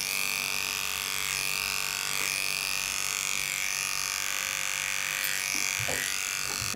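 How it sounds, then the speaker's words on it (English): An electric clipper with a snap-on attachment comb runs steadily down the front leg of a cavoodle dog, a close, continuous buzzing drone with slight changes in pitch as the blade moves through the coat. "running my clipper straight down the front of her front leg"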